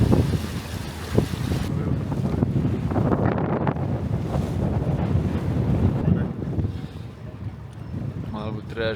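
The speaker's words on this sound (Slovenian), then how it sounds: "zdajle piha ful veter in glih z boka nam piha" Strong wind hits the side of a motorboat cruising the Kornati islands off the Croatian coast, buffeting the microphone hard over engine and water noise, while people talk now and then.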